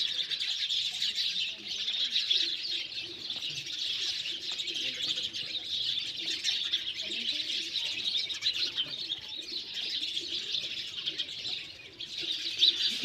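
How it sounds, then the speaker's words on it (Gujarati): Dense, continuous chirping from a large flock of house sparrows gathered at a village home to eat scattered rice, steady and fairly close with no talk. "ગણાય નહીં ને એટલા ચકલા રહીએ છે અમારે ઘરે"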